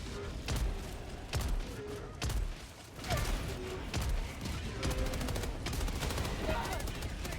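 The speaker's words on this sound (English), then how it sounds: "Now the artillery's landing on us." Artillery landing in Helldivers 2, a rapid series of sharp booming impacts and crackling gunfire-like bursts, repeated every second or so, loud and close with faint talk mixed in.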